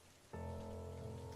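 Steady rain falling during a storm, a dense continuous wash that starts abruptly and then holds loud and unbroken throughout.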